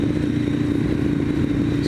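A Ducati M1100 Evo motorcycle engine runs with a steady, loud, low throb heard close up from a bike-mounted mic, holding an even note without revving and without talk.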